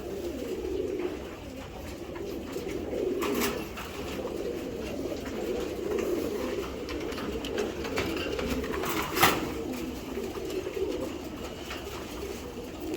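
Racing pigeons from a club loft coo steadily and softly nearby, a continuous low murmur of several birds with a few brief sharper sounds mixed in.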